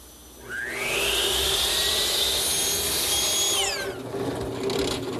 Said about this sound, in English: I've set up the rip fence and the saw blade to make a rabbet.